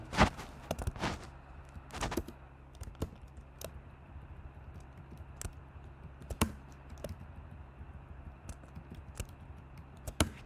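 CSS code is typed on a computer keyboard in sparse, scattered clicks and short bursts, close-up over a quiet steady background hum, without speech.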